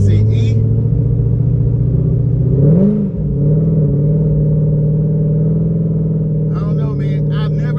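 A supercharged C6 Corvette running on 55% ethanol drones steadily from inside the cabin while driving, with a continuous supercharger whine over the engine note, a brief rise in revs midway and faint voices at the edges.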